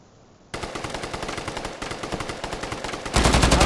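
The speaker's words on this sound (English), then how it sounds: "I don't know where he's shooting you from" Rapid automatic gunfire in a shooter video game, loud and close, with a fast steady burst that grows heavier and louder near the end.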